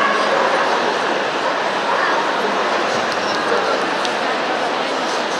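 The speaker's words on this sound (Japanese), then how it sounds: "このね、ラゴットロマニョーロっていう犬がね、なんか僕好きなんですよね。" A Lagotto Romagnolo barks amid the dense, roaring crowd noise of the Crufts 2018 dog show hall, the yips and bow-wows blending into a constant wash of chatter and arena din.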